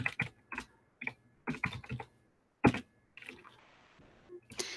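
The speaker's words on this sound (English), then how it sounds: "So you can just type your name or your city or whatever you want to put in here." Fingers type on a computer keyboard in quick bursts of clacking keystrokes separated by short pauses. A final flurry ends the sequence, close and clear, with no voices.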